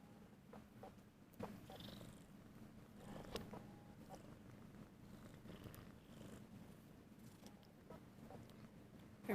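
A small kitten purrs softly and continuously, a low steady rumble close by but faint, with occasional light rustles and no talking.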